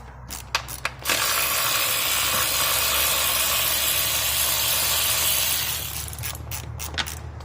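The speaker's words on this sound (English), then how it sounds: "I'm going to take the cover to the upper intake off" A ratchet works on the upper intake cover of a Honda Odyssey 3.5L engine, a few sharp clicks and then a long, dense stretch of rapid ratcheting and mechanical rasp, close and fairly loud, ending with a few scattered clicks.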